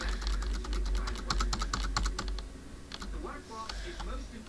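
Rapid clicking bursts of typing on a computer keyboard while erasing code, with dense keystrokes at first and then sparser taps, close to the microphone, with some low background noise.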